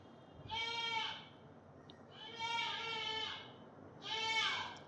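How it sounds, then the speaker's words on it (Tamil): A young goat bleats close by outdoors, three loud, wavering cries spaced a second or so apart over a quiet background. "பக்கத்தில் ஆட்டுக்குட்டி கத்திகிட்ருக்கு, அதனால் டிஸ்டர்பன்ஸாக இருந்தால் சாரி."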